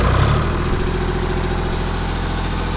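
A Ford 335 industrial tractor engine held at high revs, with a loud, close, steady droning roar after a brief low rise at the start and no speech over it.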